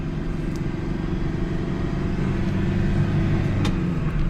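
A used Toyota Vigo pickup drives on a country road near Ban Nong Bua Kaeo, turning and braking, with a steady loud engine and road rumble throughout and no talk.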